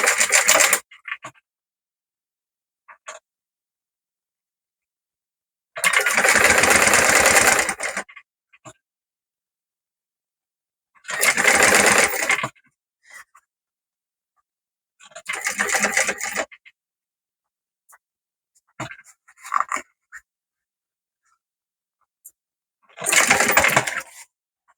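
A sewing machine stitches a fabric necessaire pouch in five separate loud bursts of a few seconds each, with quiet pauses and small handling clicks between runs.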